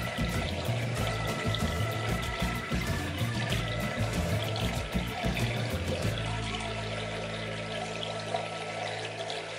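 Water runs from a tap in a steady splashing stream during face washing, then settles into a smoother, even flow.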